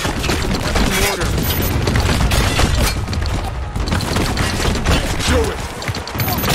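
Mortar fire and explosions in the war shooter Spec Ops: The Line, a dense, loud barrage of booms and gunfire rolling on continuously with no clear breaks.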